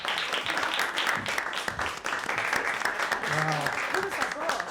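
A live show audience applauds steadily throughout, thick clapping that fills the room while a voice speaks over it.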